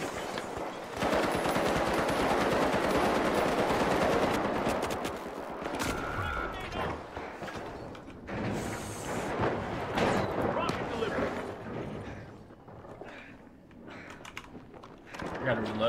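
Dense automatic gunfire in a shooter video game, loud rapid bursts and blasts filling most of the stretch, with a player talking over the shooting at times.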